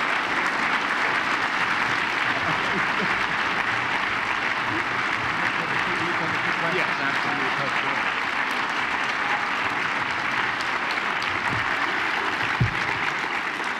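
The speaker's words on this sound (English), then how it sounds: "Let's go ahead and clap again." A large audience claps steadily after a speech by an actor at a school event, a dense, loud and even wash of applause that holds for the whole stretch.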